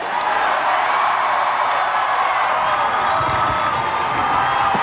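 A large crowd in Little Rock cheers for Vice President-elect Al Gore in a steady, dense roar of voices and applause that holds at an even, loud level throughout.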